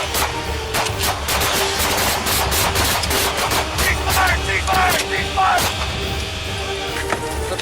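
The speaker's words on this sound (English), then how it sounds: "one officer shouted, "Gun!" followed by a brief struggle and gunfire" Rapid gunfire cracks out during a police confrontation with a suspect pulled from a car, loud and dense over constant harsh noise, with shouting voices mixed in.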